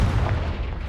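Confringo blasting spell in Hogwarts Legacy going off as a single loud, close booming explosion, a heavy low thud that fills the brief moment with no talk.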